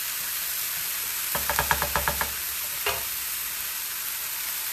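A Philly cheesesteak slider filling sizzles in a pan while a utensil stirs it in a quick burst of about eight rhythmic scrapes, then one more later. The frying hiss runs softly throughout.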